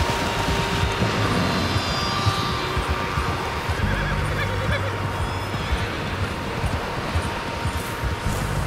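Horses neigh and whinny in the Red Dead Redemption 2 video game, over hoof clip-clops and a dense, loud ambient bed with a low rumble throughout.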